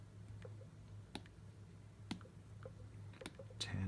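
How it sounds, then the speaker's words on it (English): Soft, sparse taps on the glass on-screen keyboard of a 10.5-inch iPad Pro, a handful of light clicks spread out over a low steady hum. "I'm just going to use the software keyboard."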